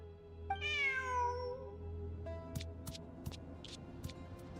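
A cat in the video game Genshin Impact gives one clear, drawn-out falling meow, followed by a few faint clicks and taps against a soft ambient hum.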